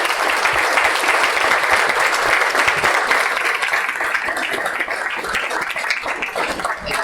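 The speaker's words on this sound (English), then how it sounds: "Please give them another round of applause." An audience at a healthier-communities leadership summit launch gives sustained applause, a dense, even wash of clapping that lasts throughout with no talk over it.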